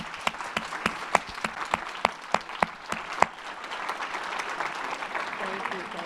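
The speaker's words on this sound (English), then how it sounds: "A great big round of applause." Audience applause after a talk: sharp individual claps ring out near the start, then blend into a steady wash of clapping from a crowd.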